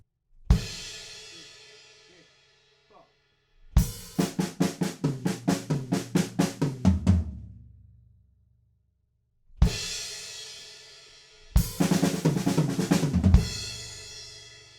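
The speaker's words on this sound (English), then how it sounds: "So we're going to play crashes and wait a bar and then play the fill." Drum fills: a single crash rings out, then a rapid run of close tom and snare hits, and the crash-then-fill sequence repeats, loud and alone.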